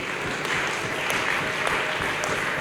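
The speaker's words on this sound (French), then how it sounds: "Est-ce qu'on peut s'applaudir" Audience applause at a district office installation ceremony in Ngaliema, a steady dense wash of clapping from a gathered crowd lasting the whole moment, with faint voices underneath.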